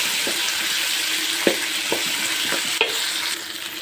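Chopped tomatoes sizzle steadily in a hot pan for chutney, with a spoon scraping and stirring through them in several distinct strokes over the constant frying hiss.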